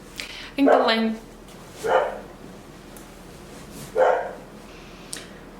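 A dog barks three times, sharp and fairly close, with pauses of about a second between barks over a quiet background.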